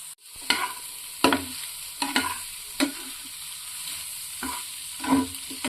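A spoon scrapes and stirs rice masala in a hot pan at a steady pace, about seven knocks over a soft, continuous sizzle, close and without talk.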